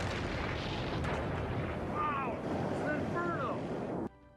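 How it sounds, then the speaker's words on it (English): A second, larger explosion at the PepCon chemical plant rolls out as a loud, sustained roar of low rumble and turbulent noise lasting about four seconds, with faint rising whistle-like tones partway through, then cuts off abruptly. "A few minutes later, a second explosion sends another shockwave across the ground."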